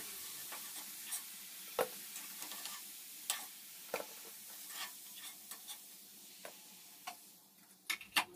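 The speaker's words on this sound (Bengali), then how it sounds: "একই রকম পদ্ধতিতে বাকি গোলাপ জামুনগুলো ভেজে নিচ্ছি" Semolina gulab jamun sweets fry in oil with a soft, steady sizzle, broken by occasional sharp ticks and pops close by, quiet overall and with no speech.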